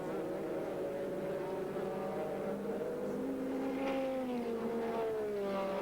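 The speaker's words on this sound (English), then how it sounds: "the leader's just approaching and passing number 66, Kevin Buckler" American Le Mans Series race cars, including a Saleen GTS, at Sears Point, heard as a continuous distant engine drone with pitch gradually shifting as cars approach and pass, faint under broadcast ambience.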